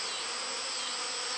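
A honeybee swarm hums around a freshly cut tree limb, a dense, steady buzzing of many bees close by, continuous and unbroken.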